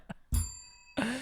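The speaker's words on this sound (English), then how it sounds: "That's the bell. That's the bell." A single bell rings out with a bright, sustained metallic tone that slowly fades, followed by the start of a voice.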